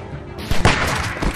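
Gunfire in The Walking Dead video game, a couple of sharp, loud bangs close together amid a brief burst of noisy action.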